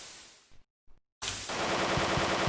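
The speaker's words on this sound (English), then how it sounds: "Not sure if the machine gun is good." Machine gun fire in the video game Hadal Calm comes in short bursts broken by brief silences, then settles into a loud, continuous rapid stream of shots.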